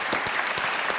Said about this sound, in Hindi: एक बार फिर तालियां बज जाएं.